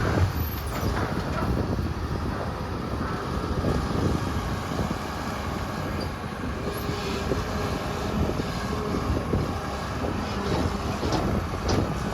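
Steady, loud wind with rain roars and buffets close to the microphone for the whole stretch, a continuous rushing noise with no talking.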